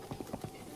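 Several quick hoof clops of a horse in an uneven trot in The Legend of Zelda: Breath of the Wild, fairly close, with a faint murmur of voices behind them.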